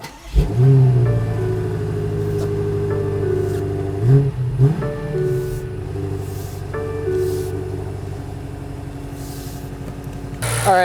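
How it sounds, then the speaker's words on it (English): A 617 hp 2023 BMW X5 M Competition SUV engine starts up close by, then revs several times, rising and falling between bursts, settling into a steady idle in between. "start this SUV up so you can listen to the engine"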